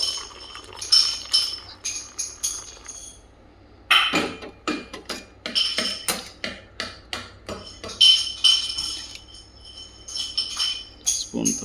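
Spoon stirring hot coffee in a cup: a long run of close, bright metallic clinks tapping against the cup's sides in quick rhythmic bursts, with short pauses between rounds of stirring.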